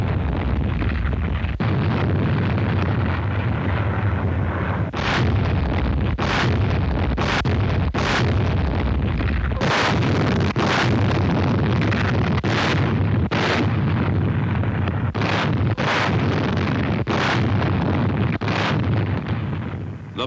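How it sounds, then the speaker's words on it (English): Naval guns shell the island of Basho on D-Day morning before the landing, in a wartime newsreel: heavy blasts strike one after another every second or two over a constant, loud roar. No voices are heard. "The Navy shelled the target island of Basho on D-Day morning for only 3 hours before the landing."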